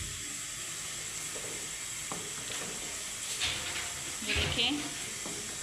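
Chopped onions browning in a frying pan for an aloo palak curry give off a steady, close sizzle, with a few louder crackles and spits, while a person talks over it.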